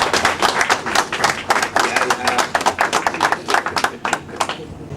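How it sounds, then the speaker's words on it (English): Loud, lively applause breaks out at an inauguration ceremony, with many individual claps standing out in an uneven, crackling patter from a nearby audience that fades slightly at the close. "Please give him a round of applause."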